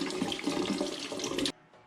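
Tap water runs steadily while hands are washed with a well-cured bar of olive, coconut and castor oil soap with orange zest, a close broadband splashing that stops abruptly, leaving quiet room tone.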